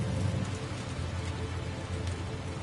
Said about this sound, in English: So that's actually rain, not timefall.